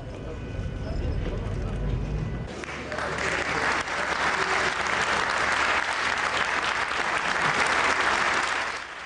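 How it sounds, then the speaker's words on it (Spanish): Sustained applause greeting Alexis Tsipras on his return, a dense wash of many clapping hands that swells after a couple of seconds and holds steady, with voices mixed in. "Aplaudido a su retorno"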